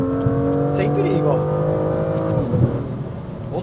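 BMW M2 F87 engine on throttle lift-off while driving, a loud steady in-cabin drone that drops in pitch with a few pops, under continuous talk.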